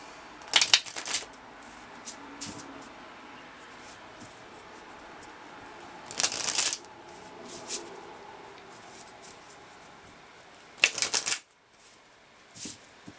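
Lenormand cards being shuffled in three short crisp riffling bursts spaced several seconds apart, with quiet handling rustles between them in a still room.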